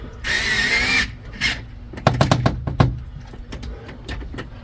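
A power tool tightens down a handle, with a sustained whir of a drill running followed by a cluster of sharp clicks and clatters, close and loud with no talking.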